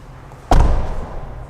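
One solid close-range slam as the door of a 2024 Ford Mustang Dark Horse is shut, a deep thump followed by a short rattling decay and quiet room tone.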